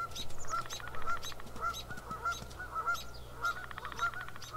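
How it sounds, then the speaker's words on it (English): A flock of geese in the game WolfQuest honks repeatedly in overlapping calls, moderately loud, over a faint low background hum. "I hear geese."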